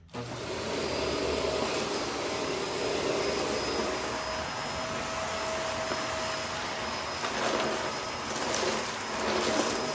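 A Shark vacuum cleaner runs steadily at close range with a constant whirring roar and high whine, its tone shifting slightly as it loses suction; no one speaks.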